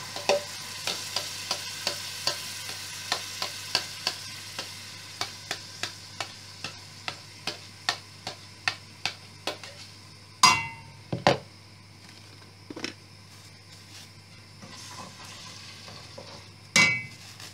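Blended tomato fries in a pan for Indonesian kebuli rice chicken as a spoon stirs it. A steady sizzle runs under rhythmic, regular metallic scrapes and taps, followed by a few louder, irregular knocks against the pan.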